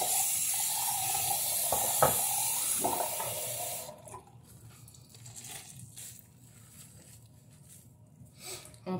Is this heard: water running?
yes